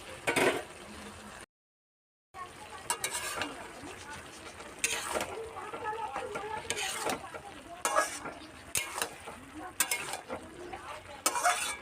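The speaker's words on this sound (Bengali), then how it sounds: "লাউটা হাফ সেদ্ধ হয়ে গেছে, দিয়ে দেব ভেজে রাখা চিংড়ি মাছ" Fried prawns stirred into half-boiled bottle gourd in a pan, with repeated scraping stirs and a steady sizzle at moderate loudness, broken by a short silent gap.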